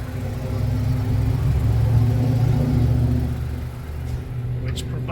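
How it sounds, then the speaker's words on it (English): A Ford Escape SUV's inline three-cylinder turbocharged engine runs with a steady low rumble and whir, fairly loud and close, easing slightly toward the end. "under the hood is an inline 3"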